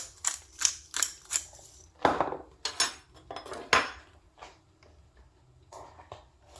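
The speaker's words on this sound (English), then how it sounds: "I'm going to add a little bit of black pepper." A pepper grinder ratchets in a quick series of dry, clicking twists over a pot of nettle soup, close and crisp, with a few clinks of cookware between turns.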